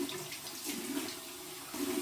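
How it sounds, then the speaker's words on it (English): Warm tap water runs steadily for a face rinse after shaving, a continuous close splashing stream filling the whole moment with no voices. "here we go with my warm water rinse"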